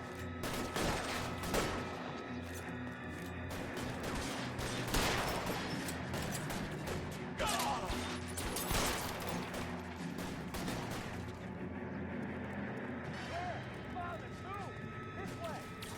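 Gunfire in the L.A. Noire video game, with several sharp, loud shots and bursts in a rapid exchange over continuous game sound, while someone talks throughout.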